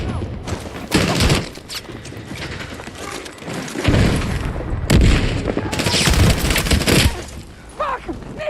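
Weapon fire in Battlefield 6 erupts in loud, close bursts of rapid shots and booms, separated by brief lulls and mechanical clatter.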